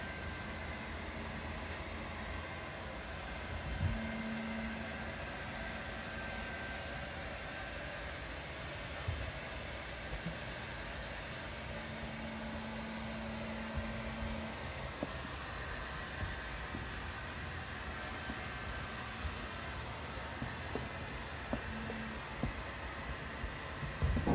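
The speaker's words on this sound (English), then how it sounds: "now we're back to the hair dryer" A hair dryer blows in a steady whoosh while heating window tint on the back window of a 2022 Lucid Air, even and moderately loud, with small clicks and bumps now and then.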